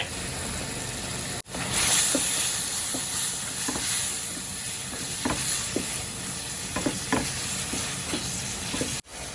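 Fish balls stir-fried in a wet pan with sliced lemongrass, kaffir lime leaves, fingerroot and green peppercorns sizzle steadily, with a hissing wash and scattered clinks of a utensil stirring through the mix.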